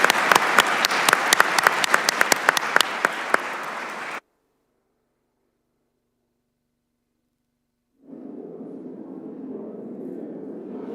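Dense audience applause for a panel at a policy and strategy summit, loud and continuous for about four seconds then abruptly cut to silence, followed by a low steady murmur of room noise.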